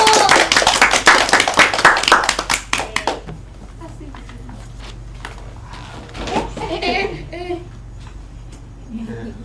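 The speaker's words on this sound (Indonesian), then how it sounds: "Tepuk tangan dulu." A classroom breaks into clapping for a group's correct answer, a dense burst of many hands lasting about three seconds before fading into quieter room noise with faint talk.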